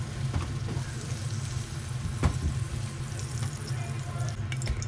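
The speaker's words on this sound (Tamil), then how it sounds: "தாளிப்புக்கு இன்னைக்கு தேங்காய் எண்ணெய் தான் ஆட் பண்ணியிருக்கேன்" Coconut oil heats in a pan before mustard seeds and urad dal go in for tempering a paruppu keerai kadayal; a steady low sizzle and bubbling hiss runs throughout with a brief louder crackle midway, no voices.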